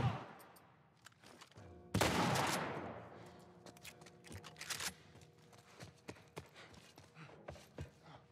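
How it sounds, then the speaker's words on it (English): Gunfire in The Last Of Us Part I video game: a loud burst of shots near the two-second mark, then scattered sharp cracks and pops continuing irregularly through the rest, with no talk over them. "So many shots."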